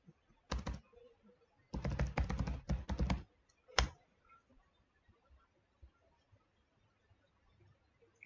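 Computer keyboard typing a search query, in short bursts of rapid key clicks separated by pauses, close and fairly loud with no talking.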